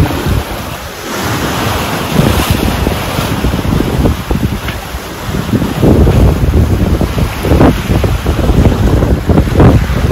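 A sailboat moving through shallow water in wind, with continuous rushing water and surf against the hull and heavy wind buffeting on the microphone, loud and unbroken throughout.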